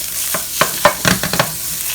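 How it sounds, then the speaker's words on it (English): Tomato paste cooking down in a pan for meatballs and spaghetti with Italian sausage, a steady close sizzle broken by several quick scraping stirs with no voices. "you're just going to cook this till the tomato paste gets a nice dark color"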